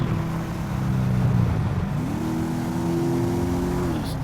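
A car engine in GTA 5, played with a steering wheel, drones loudly and steadily, then climbs in pitch as it accelerates to overtake, holding a higher, even roar before easing off.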